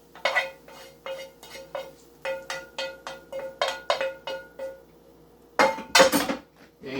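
A stuffing mixture with butter is tipped into a bowl with a run of rhythmic scraping clinks against the dish, about a dozen close knocks, then a brief pause before a louder clattering burst, no voices.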